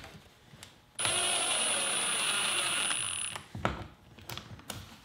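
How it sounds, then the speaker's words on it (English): A screw is driven into MDF for a curved tabletop, producing a loud, close, continuous whirring and grinding burst of about two and a half seconds, followed by a few short clicks and knocks. "It's important to not over tighten the screw because it's very easy to strip the MDF."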